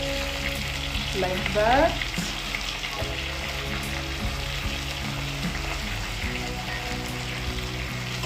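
Chopped tomatoes added to softened onions in a pot for a meat stew hiss and sizzle steadily up close, with a brief clatter of stirring early on and a short spoken remark.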